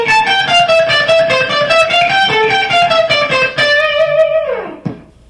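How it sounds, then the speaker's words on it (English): Electric guitar played slowly through melodic interval skips with an effects unit and light distortion, clear sustained notes stepping up and down, ending on a held note that bends and fades; no talk. "Then it does some interval skips. Let me play those for you a little slow."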